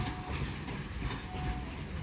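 A freight train rolls past with a low, rumbling drone and faint metallic wheel squeal, moderately loud and continuous, with no talking.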